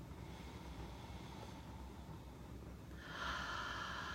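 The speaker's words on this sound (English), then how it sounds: "Take your hands to a scent tent and breathe it in" A single slow inhale drawing in essential oil scent from cupped hands rises near the end, soft and close, over a faint steady room hum.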